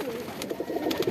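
Pet pigeons let out into the midday sun coo in soft repeated phrases, a run of low throaty calls close by over a steady breezy background.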